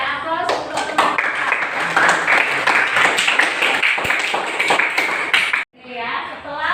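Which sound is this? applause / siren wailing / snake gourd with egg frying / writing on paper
applause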